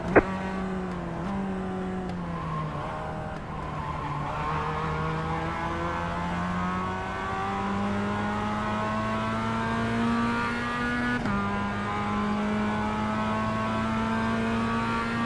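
Race cars in the iRacing simulator, engines droning steadily with rising and falling pitch as a car closes in and passes close by, continuous and loud with no talking.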